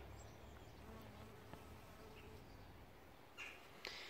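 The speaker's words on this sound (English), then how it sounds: "there's still a little bee there trying to enjoy it" A bee buzzes faintly around heather flowers in a garden, a thin, soft drone against quiet outdoor ambience, with a couple of brief louder buzzes near the end as it moves close.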